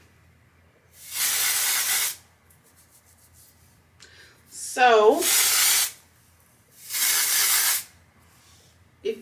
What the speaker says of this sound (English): And let's spray.